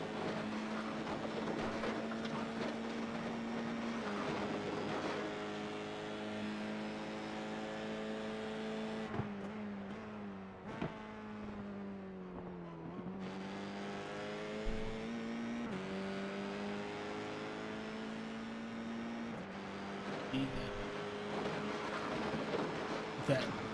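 Open-wheel amateur race car at the Charlotte Roval, its engine note steady then dropping sharply as the driver lifts off the gas and shifts gears, then climbing again; loud and continuous, with commentary talking over it.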